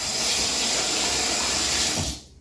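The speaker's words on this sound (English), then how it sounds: "we're going to quickly wash our hands" Hands washed under a running kitchen tap, a loud, steady close rush of water that cuts off abruptly near the end.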